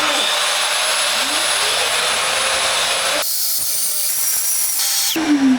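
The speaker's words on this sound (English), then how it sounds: "Can you believe our vacuum starts with... It starts automatically, that's the wording." A workshop vacuum starts automatically, its motor whining up into a loud steady roar, with a sharp change in pitch partway through and a brief tail at the end.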